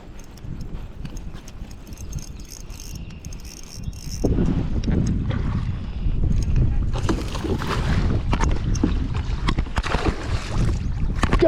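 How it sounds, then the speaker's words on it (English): Wind gusts around the docks on the Erie Canal, a steady low buffeting rumble that grows noticeably louder and rougher partway through and keeps blowing to the end. "the wind is making it a little difficult around the docks right now"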